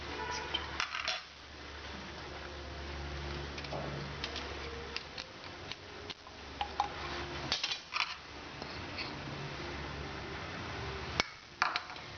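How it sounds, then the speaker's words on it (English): Ingredients tipped into a mixer bowl while preparing mayonnaise with oil and a garlic clove, giving scattered clinks, taps and small knocks against the bowl over a steady low background hum, with no talking. "So I quickly put all the ingredients into a"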